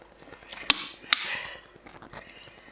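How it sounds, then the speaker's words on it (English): A plastic fuel tank quick disconnect adaptor on a BMW K1300 motorcycle is snapped apart by hand, giving two sharp, close cracks about half a second apart, then light handling noise. "I'm just going to snap the plastic"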